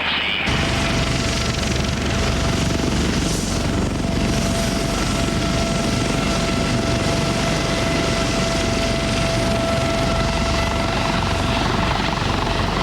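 A helicopter flies overhead, its loud, continuous rotor thrum and engine whine filling the whole stretch close by, with no talk over it.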